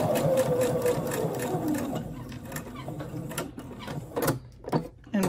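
A sewing machine stitching the strap of a Halloween mask, with a fast whirring run of stitches that slows and stops, then short bursts of stitching and clicks near the end, fairly close and moderately loud.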